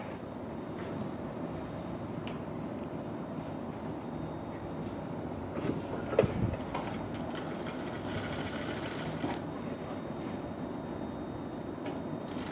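A sewing machine stitches piping onto a blouse, giving a steady, fairly quiet mechanical whir close by. A brief louder clunk comes partway through.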